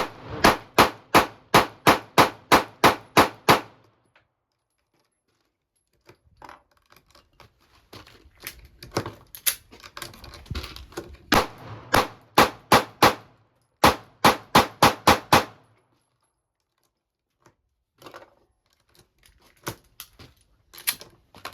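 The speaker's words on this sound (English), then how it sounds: "I'm gonna just keep shooting low." Springfield Armory Hellcat or Sig Sauer P365 handgun fired in fast strings of sharp, loud cracks, a rapid volley, a pause with quiet handling clatter, then another quick burst and a few scattered shots.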